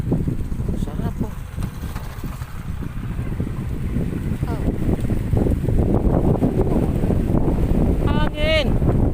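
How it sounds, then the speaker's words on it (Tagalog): Strong mountain wind buffets the microphone in a continuous low roar, growing slightly stronger, with a brief voice heard near the end. "Ang sarap ng hangin dito guys."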